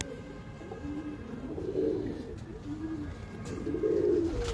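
Several pigeons coo in soft, throaty, repeated phrases close by, over a low background hum.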